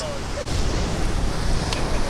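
Ocean waves at Kappad beach in Kerala roar as a continuous, loud wash of surf with strong wind buffeting the microphone, steady throughout.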